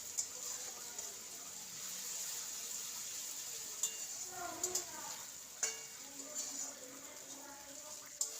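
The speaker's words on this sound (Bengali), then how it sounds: "এবার রসুনটাকে খুব ভালো করে ভেজে নেব পেঁয়াজের সাথেই" Coarsely crushed garlic fries with onions in a wok for a mutton dish, making a soft, steady sizzle. Occasional utensil clicks and scrapes punctuate it, and a voice is faintly heard talking in the background.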